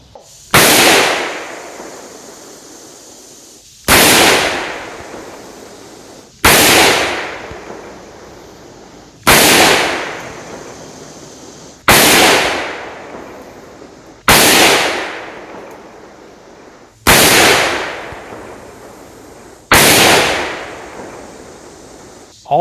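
Gewehr 88 commission rifle test-fired outdoors: eight loud, sharp gunshots spaced roughly three seconds apart, each with a decaying echo tail, no talking.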